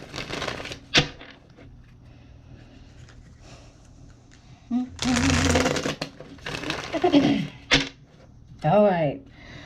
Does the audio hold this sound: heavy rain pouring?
no